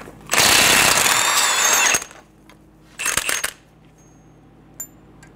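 A power tool fitted with a 32 mm socket spins off the front axle nut on a 2011-2014 Hyundai Sonata, giving a loud sustained whir for over a second, then a shorter burst, followed by a small metallic clink.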